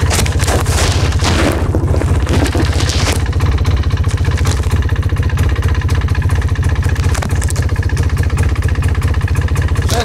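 An ATV four-wheeler engine runs close and loud, a constant throbbing rumble with clattering texture and no pauses, and no one speaking over it.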